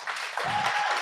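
Audience applause at a web development bootcamp demo day in Marseille, a brief burst of crowd clapping, loud and close, lasting only about a second.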